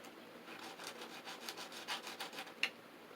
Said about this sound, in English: And I'm going to sand just a little bit on this side.